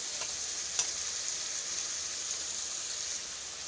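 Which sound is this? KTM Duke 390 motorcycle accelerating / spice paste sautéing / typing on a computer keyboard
spice paste sautéing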